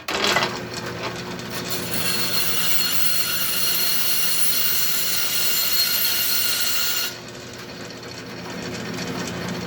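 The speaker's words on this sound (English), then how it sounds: "so I'm just going to cut the top part off of that" A saw cutting through the top of a glued wooden handle for a railroad spike tomahawk, a continuous rasping stroke that holds steady for about seven seconds and then cuts off abruptly, close and loud with no talking.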